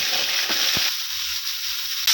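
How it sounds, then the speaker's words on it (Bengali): Prawns rubbed with turmeric and salt fry in hot oil in a wok, a steady loud sizzle throughout with a brief stirring crackle early on. "চিংড়ি মাছগুলো ভাজা হয়ে গেছে,"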